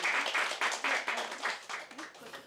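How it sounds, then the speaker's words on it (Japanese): Small indoor audience at a lecture on Fukushima folktales clapping to welcome a speaker, a fairly faint, loose patter of separate claps that thins out after about two seconds. "拍手でどうぞお迎えください。"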